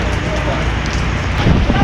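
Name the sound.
heavy rain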